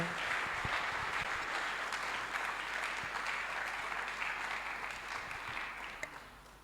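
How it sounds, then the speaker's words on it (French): An audience at a financial intelligence conference in Lubumbashi applauds to welcome a speaker, a full, steady roar of clapping from many hands that gradually tapers off. "Sous vos applaudissements"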